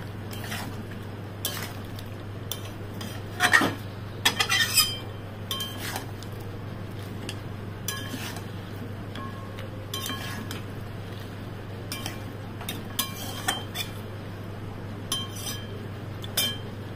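A spoon stirs chicken and potato curry with bay leaves and dried fenugreek in a metal pot, giving scattered light scraping clinks over a low steady hum from the stove, close and soft.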